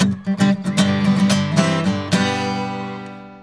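Guitar playing the opening of the traditional Irish dance tune Tell My Ma, a run of quick plucked notes that rings out and fades, heard alone and close.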